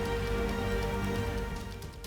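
Heavy, continuous rain falls in Kota during a monsoon downpour that has flooded the area under a railway bridge, a steady dense wash of water that stays loud and even throughout, with no voices.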